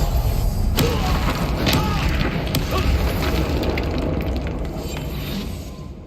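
A spell blasts in the Hogwarts Legacy video game: an Expelliarmus disarming charm lands as a deep booming impact with crackling bursts, loud and close, among steady rumbling game sounds and a dense magical din.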